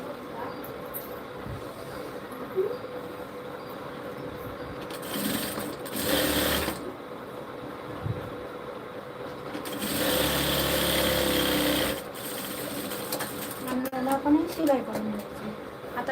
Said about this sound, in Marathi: अशीच आपल्याला दुसरी सिलाई करून द्यायची